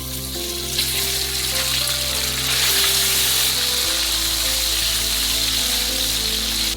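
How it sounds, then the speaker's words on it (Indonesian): Steady, broadband sizzling of chicken frying in hot oil in a pan, continuous and fairly loud throughout, with no talking. "Lalu goreng ayam terlebih dahulu."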